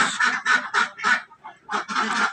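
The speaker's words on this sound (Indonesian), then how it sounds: "untuk bebek kandang petelur ini" Laying ducks in a pen quack and honk in loud, close bursts, several calls in quick succession with a short pause midway.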